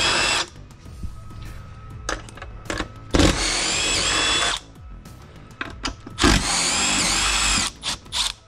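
A power drill whirs in several loud, sustained runs with short stops while backing bolts out of a Coleman Mach 8 RV air conditioner, close up, with clicks and clunks of handling in between.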